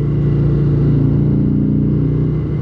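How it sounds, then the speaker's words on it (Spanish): Deep, continuous idling drone from the 103 engine of a Harley-Davidson Road Glide Special motorcycle, heard close and loud and steady throughout with only slight wavering. "la potencia de este motor, el 103 de Harley"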